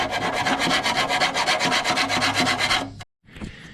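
A hand file rasps on a metal part during a strut install on a 1989 Mustang GT, loud and close with rapid back-and-forth strokes for about three seconds, then a brief pause and a fainter stroke.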